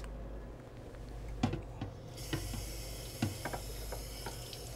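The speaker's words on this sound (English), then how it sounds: "you're just going to want to pour a little hot water over the outside of the mold" Hot water is poured over the outside of an ice mold for a punch bowl, a low steady hiss of flowing liquid with a few soft knocks and clinks, faint and close with no talk.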